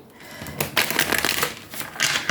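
Tarot cards being shuffled by hand, a close papery riffle and slide in a few quick bursts lasting a couple of seconds.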